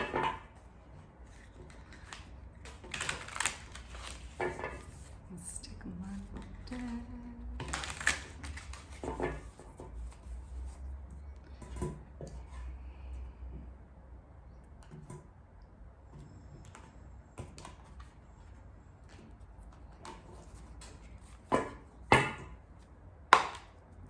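Tarot cards being shuffled, with uneven bursts of crisp riffling, flicking and tapping over a quiet background and long pauses between them.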